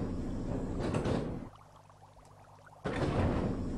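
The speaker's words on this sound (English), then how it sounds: "Go through the front door." A front door in the video game Martian Gothic slides open with a loud mechanical whoosh, then a quieter humming stretch, then another loud rushing slide.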